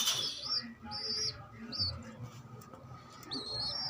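Young pigeon chicks, squabs in a nest, give thin high-pitched peeping calls in short repeated bursts, faint and close, over a low background rumble.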